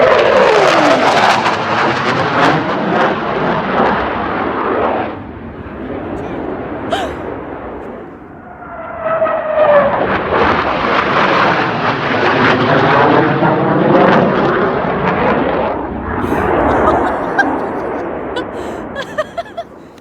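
An F-15 fighter jet flies low overhead above a Pacific Crest Trail hiking route, a loud sustained roar that swells, fades and surges again across the whole stretch, while a startled voice exclaims nearby.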